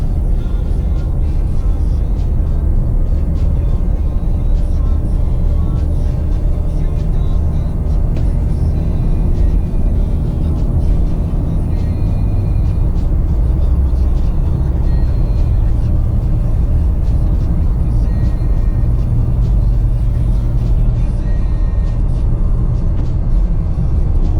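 A 2020 Range Rover Evoque drives steadily through S-turns, its low engine rumble and road noise continuous and close, with no voices.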